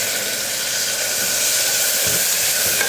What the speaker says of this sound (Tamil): பச்சை மிளகாய், வெங்காயத்தை நல்லா வதக்கிக்கலாம்.